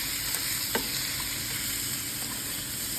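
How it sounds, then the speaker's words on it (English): A frying pan of spices sizzles with a steady bright hiss, a couple of brief utensil scrapes as they are stirred, close and even throughout without voices. "And stir them so that they absorb all the spices."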